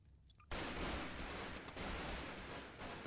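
SWAT gunfire in the video game Garry's Mod breaks out after a short quiet moment into a loud, dense, continuous volley of rapid shots, with no voices.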